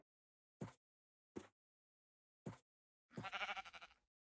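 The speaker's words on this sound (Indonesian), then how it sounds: "oh suara kambing" Goats bleat in the video game Minecraft: three short, separate calls followed by a longer wavering bleat, clear and isolated against silence, fairly quiet overall.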